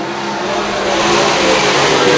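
Sprint cars snarl through lap traffic in a loud, continuous wall of engine noise that swells slightly toward the end, several motors overlapping nearby.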